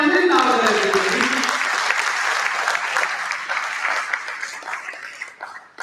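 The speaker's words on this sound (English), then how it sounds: "And a round of applause." Audience applause at a live tech talent league event in Pune, a broad wash of clapping that starts loud and full, thins gradually over several seconds and tapers toward the end, with a voice briefly audible at the start.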